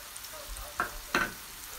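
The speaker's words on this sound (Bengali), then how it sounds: "পেঁয়াজের আমি নাইরা সাইরা কিছু সময় ফ্রাই করবো" Onions frying in a pan for sticky rice, a soft continuous sizzle with two brief scraping stirs of a utensil, close and moderately quiet, no voices.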